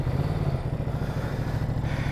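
Idling 2023 Ducati Multistrada V2 S motorcycle engine, a steady close rumble with even low pulses throughout, no talk over it.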